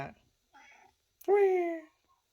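A round, white-bellied pet cat gives two meows, a short soft one followed by a louder, drawn-out call, close by with quiet gaps between.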